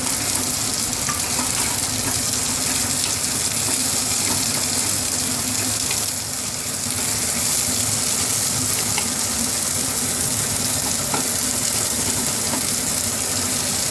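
Chopped onions and green chilies sauté in a pan over a medium flame, giving a loud, steady, hissing sizzle that holds without a break for about fourteen seconds.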